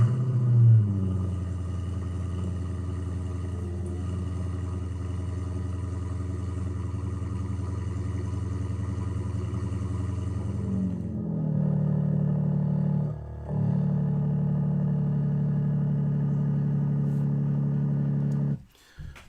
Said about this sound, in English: So you can see both cars have dual mode active exhaust.